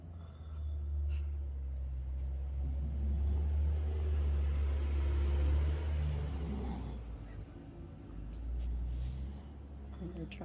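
Someone lying on a massage table snores, a deep, drawn-out rumbling breath that swells and fades across several seconds, near and fairly loud, with a faint murmur of a voice partway through.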